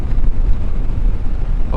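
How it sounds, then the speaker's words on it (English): A Suzuki V-Strom 800 motorcycle engine braking on the road, a steady deep rumble buried in heavy wind buffeting, loud and close throughout. "oh, that engine braking's gorgeous, beautiful"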